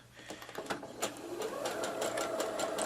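A sewing machine stitches a quarter-inch seam on a fabric table runner with appliqué lettering. The rapid, rhythmic needle chatter sounds close and steady, and the motor grows fuller as it speeds up.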